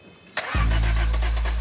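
A 1973 Hillman Imp's small engine cranks briefly with the starter, then catches and settles into a loud, steady idle, close by with no talk over it.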